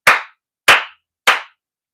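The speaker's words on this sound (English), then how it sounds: "I'm going to clap really loud." Three loud, sharp hand claps spaced evenly about half a second apart, close and dry against silence.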